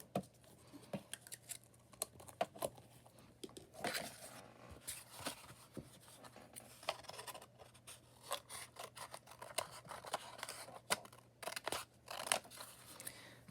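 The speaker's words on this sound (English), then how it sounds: "I have a lot of extra over on this side, so I'm just going to trim that off." Excess covering material being trimmed off a hardcover book during binding, a quiet series of irregular snips and crisp cutting clicks close by, with rustling handling between cuts.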